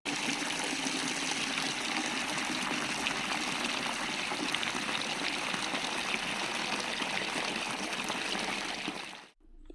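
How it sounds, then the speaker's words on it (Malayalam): Tap water gushes steadily into a bucket holding shampoo and soap powder, a constant close rushing pour that stops abruptly near the end. "അപ്പോൾ ടാപ്പ് തുറന്നപ്പോൾ തന്നെ നല്ല രീതിക്ക് പതഞ്ഞ് വരുന്നുണ്ട്."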